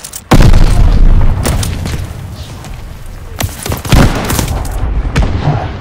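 Grenade explosions in the Call of Duty: Vanguard campaign: a loud, close boom at the start, then another heavy blast a few seconds later, with crackling gunfire and rumble in between.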